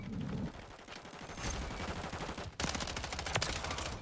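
Gunfire in the video game Call of Duty Modern Warfare III: dense automatic bursts and rapid shots rattle on without pause, swelling louder and closer in the second half.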